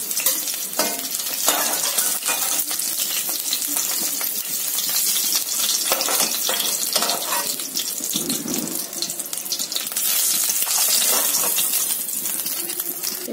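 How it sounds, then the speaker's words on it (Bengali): Pieces of katla fish fry in oil in a pan with a bright, continuous crackling sizzle. Clinks and stirring scrapes come and go over it, close and fairly loud, with no voices. "এভাবে করে আমি সমস্ত মাছগুলো ভেজে নিলাম"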